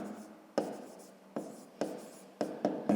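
Someone writes by hand while working a math exercise, pen strokes scratching softly with several sharper taps and scrapes spaced irregularly, close and quiet.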